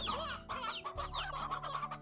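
An Elder Hen in the Slime Rancher game clucks in quick, close, steady bursts, loud and alone with no voices.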